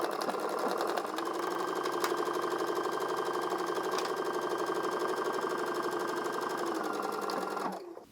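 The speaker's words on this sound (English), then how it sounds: "I'm going to go ahead and sew this with a 5/8 of an inch seam allowance." A sewing machine runs steadily, stitching a 5/8 inch seam in fabric with a fast, even mechanical clatter that carries on for about seven seconds before stopping abruptly.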